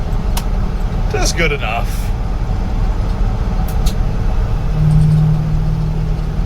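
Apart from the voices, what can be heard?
LS-swapped 3/4 ton Chevy Suburban driving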